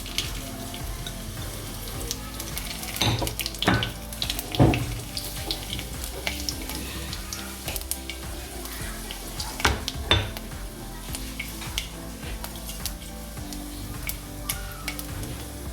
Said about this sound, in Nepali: तेल तातेको छ हाम्रो। रातो खुर्सानी फुराउन लाएँ।